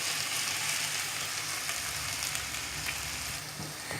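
Mashed potatoes frying in a pan, a soft steady sizzle and hiss at moderate level, continuous and alone with a faint stir near the end.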